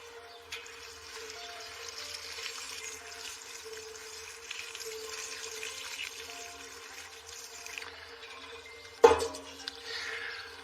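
Diluted tomato feed is poured from a watering can onto garden plant bulbs, a long gentle trickle of water with a louder splash near the end.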